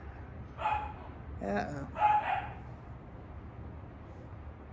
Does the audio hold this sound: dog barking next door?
yes